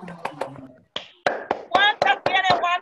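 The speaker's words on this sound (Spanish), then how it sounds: "Un aplauso para Matías." Children in a classroom clapping for a classmate: a quick run of sharp, close hand claps, sparse at first and then bunching into a brisk burst, with young voices mixed in.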